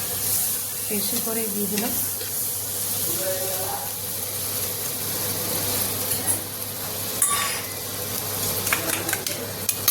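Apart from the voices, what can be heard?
butter melting and sizzling in a hot pan for an egg roll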